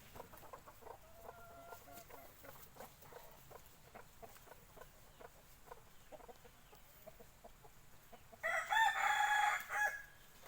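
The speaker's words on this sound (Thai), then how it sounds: "ไก่หอนพญานาค" A Phaya Nak crowing rooster crows loudly near the end, after a stretch of quieter clucking and scattered bird calls in the background.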